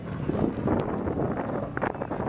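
Strong wind buffets the microphone outdoors on flat ground at a Myrtle Beach meetup, a continuous rough rumbling roar with gusty surges and faint scattered sounds.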